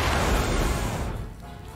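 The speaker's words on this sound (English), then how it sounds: "Oh, more explosions." Explosions in the video game Flash Point: a loud low boom that rolls out and fades over under two seconds, with no talk over it.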